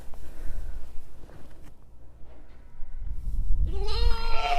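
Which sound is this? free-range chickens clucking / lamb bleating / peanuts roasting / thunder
lamb bleating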